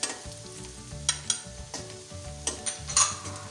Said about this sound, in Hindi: ये देखिए अब मसाला भून के